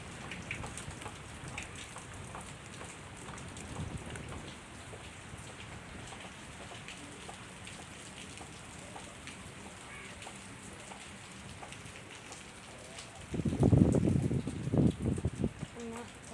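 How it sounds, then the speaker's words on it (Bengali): Steady heavy rain pours down continuously, a dense hiss of drops on surfaces, with a louder burst of nearby splashing toward the end. "অনেক জোরে বৃষ্টি হইতেছে"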